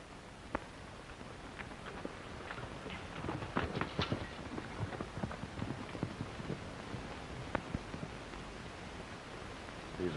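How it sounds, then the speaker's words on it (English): Faint hoofbeats clip-clop over a soft, noisy background in a 1931 Western film, a horse galloping away at pace with scattered rustling, no voices. "Say, Johnny, there goes my horse."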